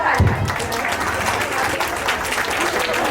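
Audience applause for a women's group after their play at a Jain temple in Shakti Nagar, Delhi: dense, steady clapping from a large crowd that fills the whole stretch at an even, loud level.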